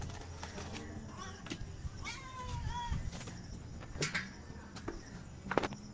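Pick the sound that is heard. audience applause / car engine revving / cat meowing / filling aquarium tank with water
cat meowing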